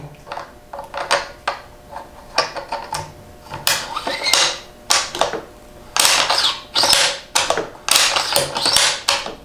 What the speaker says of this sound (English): We're going to insert the bolt. Make sure everything functions properly.